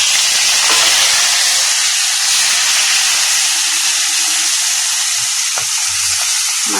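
Marinated prawns dropped into hot oil in a kadai, giving a loud, steady sizzle and crackle that lasts throughout, with a couple of faint utensil clinks near the end.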